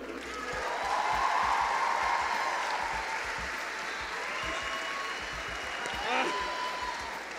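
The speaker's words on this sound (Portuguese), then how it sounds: "vamos acolher com muito aplauso" An audience applauds to welcome a speaker at a Brazilian lecture event, sustained dense clapping that swells early and stays steady, with a few cheers rising over the crowd.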